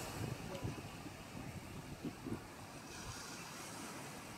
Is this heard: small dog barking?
no